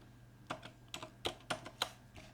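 Computer keyboard typing, a short run of quick irregular key clicks, close and fairly quiet, with no talk.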